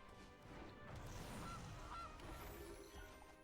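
A cartoonish goose honk plays when the Goose card is cast in the MTG Arena digital card game, two short nasal honks over a soft game backdrop.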